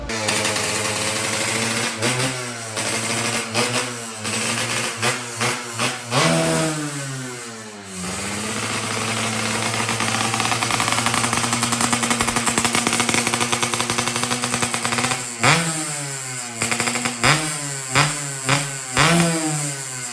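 A freshly assembled motorcycle engine, tested through gears one to four for knocking, blares loud and close with repeated rising revs and throttle blips, sustained high-rpm stretches, and short drops between gears.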